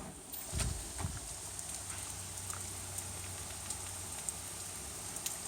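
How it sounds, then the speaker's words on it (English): Hard rain pours outside during a downpour, a steady soft hiss with scattered drip taps and a couple of low thumps near the start, faint and distant, heard indoors with no talking. "It is raining so hard. I don't know if you can hear it. But it is pouring outside."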